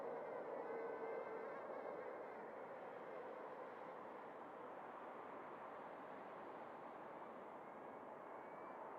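A rebuilt ZMR 250 quadcopter drone on its maiden flight gives a steady, faint, high-pitched motor whine with a jet-like hiss that holds at a constant level for several seconds, with no voices.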